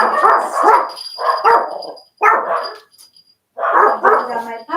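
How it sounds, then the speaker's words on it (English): Several dogs bark in repeated loud bursts from nearby indoors, with short pauses between volleys and a few higher yips. "They bark every time any other dog comes around or walking."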